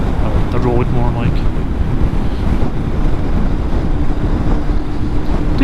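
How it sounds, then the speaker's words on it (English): Steady, heavy wind buffeting the microphone outdoors, a constant low roar with no pauses throughout. "It is a wee bit windy today."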